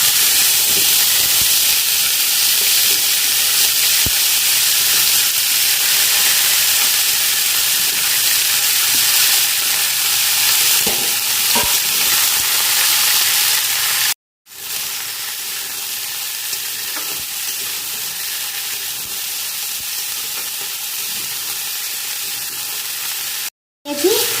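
Vegetables hit hot tempering oil for laal shukto, giving a loud, steady sizzle and hiss that continues almost unbroken, with two brief dropouts.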